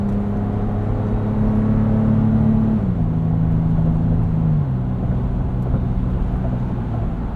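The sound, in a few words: SUV engine and TRD exhaust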